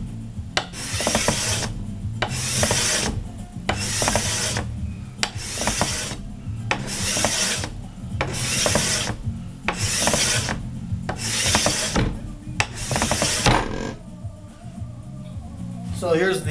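A Mystic scraper draws across hickory bow wood in about ten long, even rasping strokes at a steady rhythm, close and fairly loud, with a short pause and light handling noise after the last stroke.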